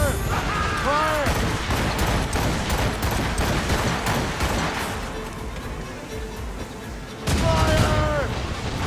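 Naval cannon volley in Assassin's Creed Rogue, a dense roll of heavy booming shots firing loudly in a continuous barrage, with shouted voices rising over it at the start and end.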